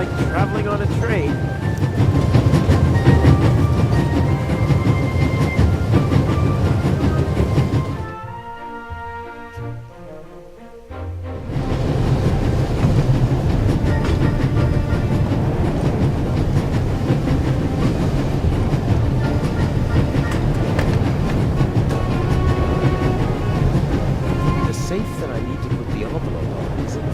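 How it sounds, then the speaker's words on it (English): In the video game The Raven - Legacy of a Master Thief, a train rumbles steadily along the rails with a rhythmic clatter that briefly drops away, then resumes. A voice talks over the noise. "There's nothing quite like traveling on a train."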